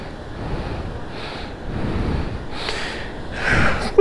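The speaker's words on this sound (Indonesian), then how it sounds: "Tapi ombaknya gede banget ya. Ombaknya benar-benar gede banget." Big ocean waves surge and wash onto the shore at Ujung Genteng beach at sunset, building in rolling swells under gusts of wind on the microphone, with no one talking.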